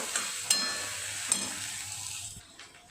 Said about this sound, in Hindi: ये जो हमारी आदू लहसुन की पेस्ट है वो। इसको ब्राउन होने तक थोड़ा लाइटली ब्राउन करेंगे।